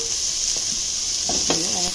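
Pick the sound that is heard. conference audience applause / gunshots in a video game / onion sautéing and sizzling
onion sautéing and sizzling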